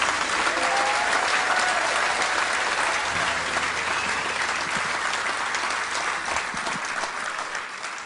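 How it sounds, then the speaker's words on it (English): An audience at a New Year show bursts into sustained, dense clapping that fills the room, staying strong and gradually tapering slightly toward the end. "Well, the applause says it all."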